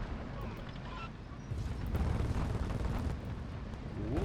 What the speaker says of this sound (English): Put some gunfire.